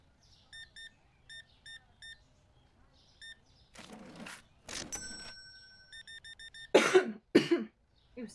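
A streamer coughs twice, loud and close, near the end, following rapid electronic checkout beeps from a supermarket cash-register game and a stretch of faint background noise.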